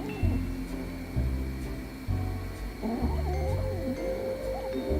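A kitten grumbles and growls while eating, a close, steady run of low rumbling sounds with short pauses between bursts and no talking.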